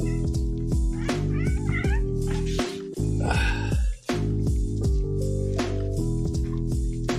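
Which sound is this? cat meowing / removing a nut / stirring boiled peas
cat meowing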